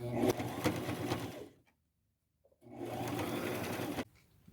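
A sewing machine runs in two close, steady whirring bursts as pleats are stitched shut on thrifted clothing, with a brief silent pause between them.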